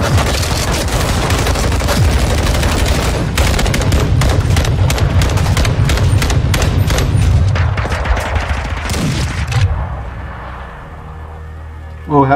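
Dense, loud gunfire in the video game Call of Duty Modern Warfare II, with rapid overlapping shots and booms for about ten seconds before cutting off, and voices briefly over the firing.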